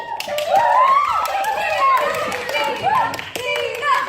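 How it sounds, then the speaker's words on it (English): Applause from an audience at a school stage musical of Singin' in the Rain Jr., with sharp hand claps spread through a steady roar, mixed with pitched voices and chatter on stage. "You hear that applause out there?"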